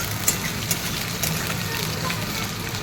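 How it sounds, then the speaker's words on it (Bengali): Potatoes fry in a pan with a steady, close sizzling hiss and a few small crackles and pops scattered through it. "আলুটা একটু ভেজে নিয়েছি"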